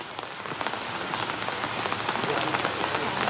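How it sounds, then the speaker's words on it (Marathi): Heavy monsoon rain pours down in Mumbai, a dense, steady hiss of rain drumming on surfaces that rises slightly in intensity, with no voices over it. "मुंबईमध्ये मुसळधार पाऊस बरसतोय"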